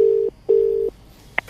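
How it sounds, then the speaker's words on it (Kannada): Telephone dialing on a radio prank call: two sustained, loud keypad tones in a row, then a short higher beep, with nothing else audible. "ಬನ್ನಿ ಕಾಲ್ ಮಾಡೋ ಇದೀಗ ರತ್ನಮ್ಮಗೆ."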